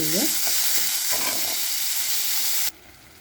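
Rajgeera dal is stirred and roasted in a hot pan with a loud, close, continuous sizzle and scraping hiss that suddenly drops away to quiet just before the end.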